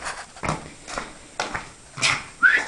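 A tiny female dog whimpers and yelps in several short bursts, close by, ending with a thin high-pitched whine.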